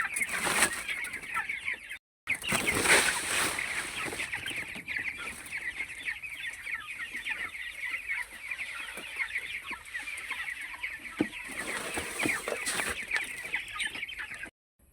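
Steady clucking from a flock of chickens in a chicken coop at feeding time, continuous and fairly close, with occasional louder squawks standing out over the flock.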